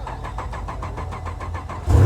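At a large car show in the north of England, a modified car's engine cranks in a quick rhythmic chug of starter turns, then catches with a sudden loud roar at the end.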